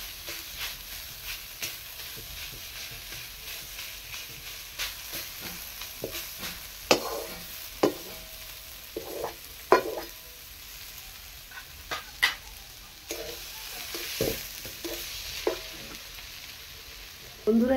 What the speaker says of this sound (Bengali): এইভাবে মেশ করে নিচ্ছি, পিষে নিচ্ছি এইভাবে আলুটাকে।